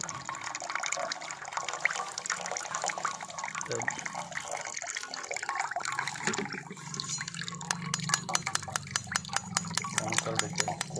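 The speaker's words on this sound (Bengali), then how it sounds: "এখানে এটা দিয়ে দিচ্ছি ঠান্ডা জল।" Cold water poured onto sago, a continuous splashing, trickling flow close by, with a voice talking over it and the stream breaking into rapid drips toward the end.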